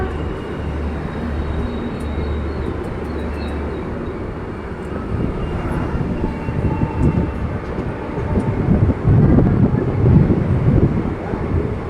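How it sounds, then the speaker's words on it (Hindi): The Danapur Express passes a railway platform close by, with a continuous loud rumble and clatter of wheels and wagons that swells toward the end, alongside wind noise. "जो ट्रेन का आपने पासिंग देखा वो पूरा दानापुर एक्सप्रेस"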